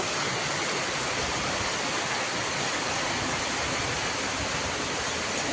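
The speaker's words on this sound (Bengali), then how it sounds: "এই যে ভালোভাবে বৃষ্টি হইতেছে" Heavy rain pouring down onto a street, a dense, steady hiss that stays even and continuous throughout.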